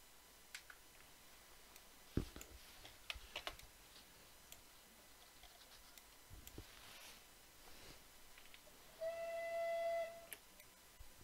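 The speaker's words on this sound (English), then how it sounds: "I love the bullied whistles." A Bulleid steam locomotive whistle in a train simulator game gives one sustained, high, shrill blast near the end, after faint ticking and clicking sounds over a quiet background.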